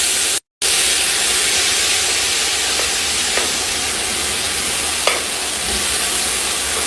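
Shabzi herbs sauté in a dry pan without oil, giving a loud, steady sizzling hiss with occasional stirring scrapes. A brief dropout interrupts it early on.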